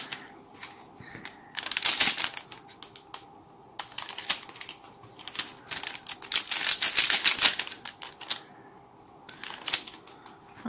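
Bursts of crisp paper snipping and crinkling come from scissors cutting open Pokémon McDonald's booster packs from summer 2018. They arrive in irregular clusters with short quiet gaps, close up, and no voice is heard.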